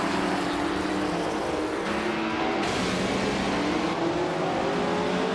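Race cars start at Tsukuba circuit, a classic 1977 Porsche 936 among them, producing a loud, continuous layered engine drone with shifting pitches as several cars accelerate together, no voices present.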